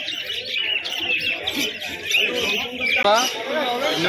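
Pigeons at a busy village pigeon market in Birnagar, cooing and chirping steadily close by, with other birds calling and people talking in the background.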